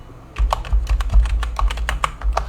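Rapid clicking keystrokes on a computer keyboard while commands are entered into a terminal, close up and steady, with a quiet hum underneath and no voices.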